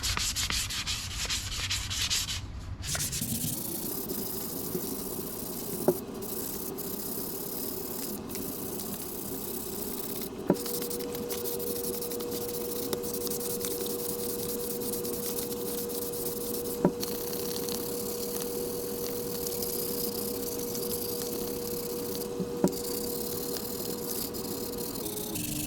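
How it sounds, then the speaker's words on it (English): Steady abrasive rubbing of sandpaper worked by hand over the edges of a Les Paul-style guitar kit body, continuous and close, with a few faint clicks along the way. "I really prefer using a sanding block, but I can't on these edges."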